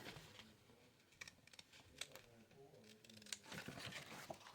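Scissors snipping through small fabric scraps to shape hearts at a quilting table, soft irregular crisp cuts with faint rustling of cloth, fairly quiet and close, with no talking.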